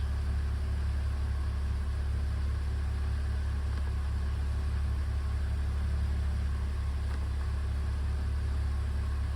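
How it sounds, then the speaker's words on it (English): A BMW E46 330ci engine idles steadily, a low continuous rumble with an even hum and no other sounds. "start engine, run at idle speed,"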